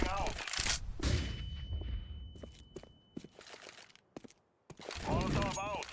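In Counter-Strike 2, a flashbang grenade goes off with a sharp, loud burst, followed by a lingering high ringing tone and scattered gunfire, footsteps and brief voices.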